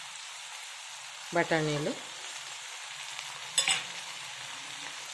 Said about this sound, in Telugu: ఇవి ఫ్రై అవుతున్నాయి కదా, ఇప్పుడు బంగాళదుంప ముక్కలు కూడా వేసేసుకుందాం.